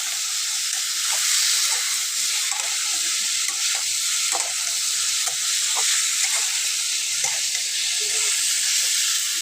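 Cucumber pieces seasoned with salt and turmeric powder fry in a pan, giving a steady, continuous sizzle and hiss with faint scattered crackles and occasional stirring scrapes, close and even throughout.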